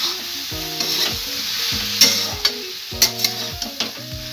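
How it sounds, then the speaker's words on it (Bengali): Boiled vegetables tossed and fried with spices in a pan, bright sizzling punctuated by repeated rhythmic stirring scrapes and spatula knocks roughly every half second, close and fairly loud, with no speech. "এবার সেদ্ধ করে রাখা সবজিগুলো এর মধ্যে দিয়ে দেব।"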